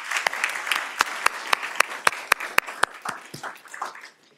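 Applause at a Black History Month celebration after a presenter finishes: a moderate crowd clapping with several sharp, prominent individual claps in a loose rhythm, thinning out toward the end.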